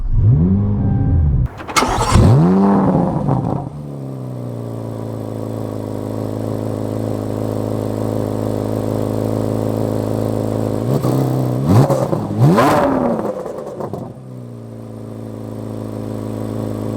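2024 Chevy Corvette Z06 engine firing up with a sharp roar, settling into a loud, steady idle, then revved twice in quick blips before dropping back to idle, close by with no talk.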